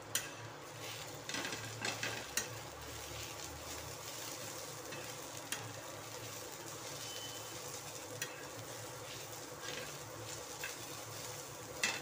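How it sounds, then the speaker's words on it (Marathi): Onion roasting in a pan for a drumstick, brinjal and potato curry, giving a faint, continuous sizzle with occasional light clicks and scrapes across a long stretch, no speech. "कांदा चांगला भाजून घ्यायचा आहे"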